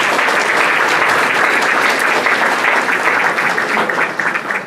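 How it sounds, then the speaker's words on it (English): A room of guests at a St Patrick's Day dinner breaks into loud, sustained applause, dense steady clapping that holds evenly before starting to thin at the very end. "So let's give them all a round of applause."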